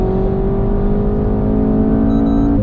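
Car accelerating hard through a tight curve on an open road, heard from inside the cabin: a steady, loud engine drone with strong low rumble that holds constant throughout, without any talking.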